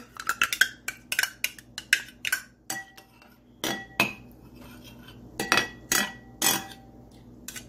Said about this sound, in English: we're just going to stir this together